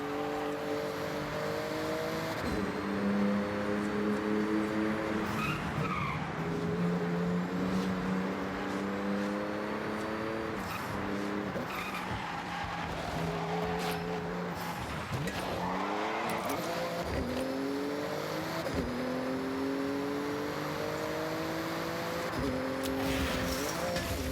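A Porsche racing through a speed zone in Forza Horizon 6, its engine loud and continuous as it climbs through the gears in repeated rising pitch sweeps with shifts between them, and tires squealing throughout.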